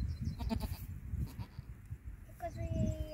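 Newborn goat kid bleating at a birth, with several short cries heard near and fairly loud over continuous people talking close by.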